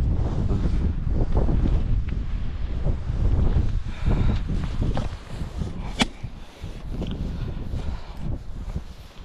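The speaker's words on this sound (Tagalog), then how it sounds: "Jacket tayo dahil medyo malakas ang hangin." Strong wind buffets the microphone in heavy, roaring gusts at a remote wild camping site at night, loudest early on and easing slightly toward the end.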